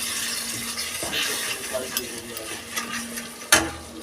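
Masala sautés in oil in a pot while being stirred for a khichuri, a soft continuous sizzle with scraping spoon strokes and a sharp clank near the end.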